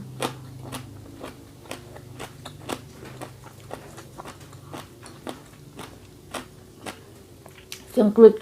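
Somebody eats spicy papaya salad with fermented fish sauce and chews it with sharp, regular crunching bites about every half second, close up. A short burst of voice comes at the end.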